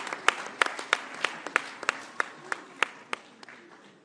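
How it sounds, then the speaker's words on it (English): An audience at a South Africa and EU leaders' G20 event claps in a faint, sparse round of applause, with sharp individual claps standing out at a steady, loose pace. "Let's give them a round of applause."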